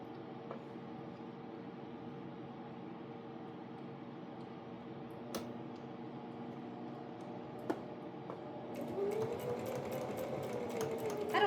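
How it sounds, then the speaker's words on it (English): Sewing machine slowly stitching an X across the quilted squares of a dog bed, a faint, steady low hum and purr with occasional soft clicks, growing a little louder toward the end. "But first I'm going to sew an X across all the squares. And I'll run this through a few times"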